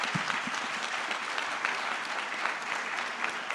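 Debate audience applauds the candidates in a sustained, even round of clapping, fairly close and full, with a few crisp individual claps near the start.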